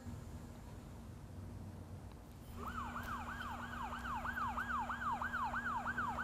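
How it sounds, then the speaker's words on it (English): An emergency siren starts up after a couple of seconds of quiet background hum, its rising wail repeating in quick regular cycles and growing slightly louder, heard at moderate distance. "it sounds like a siren"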